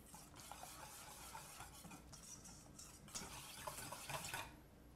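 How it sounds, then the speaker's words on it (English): A whisk beats milk, three eggs, Gruyere cheese and flour together in a bowl for a zucchini quiche, giving a steady, close, rapid scraping and clinking that runs without a break for about four and a half seconds. "We have Gruyere cheese and flour. Whisk these together."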